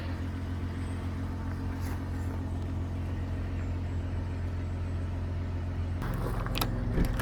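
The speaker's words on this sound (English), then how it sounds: "Definitely need to let the truck warm up in the mornings now." Truck engine idling as it warms up on a cold morning, a steady low rumble with a constant hum, shifting tone near the end as something clicks and rattles close by.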